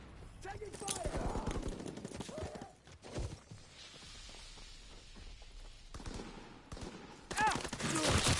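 Gunfire in a WW2 video game, with rapid automatic bursts and single shots over a busy battle mix of rumble and effects, some short game voice lines heard among the shooting.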